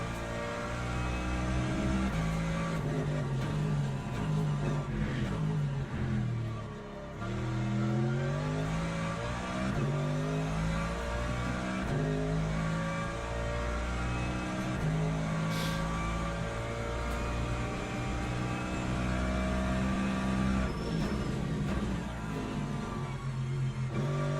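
A Ferrari race car in the Le Mans Ultimate racing game drives steadily, its engine droning loud and continuous while the pitch rises and falls through gear changes, with a brief dip in level near the seventh second.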